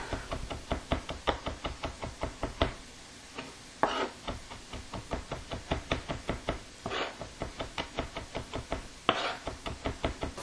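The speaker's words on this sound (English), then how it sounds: "So quickly just chopping up our oregano." A knife chops fresh oregano on a cutting board in a fast, steady run of close, crisp taps with a few brief pauses.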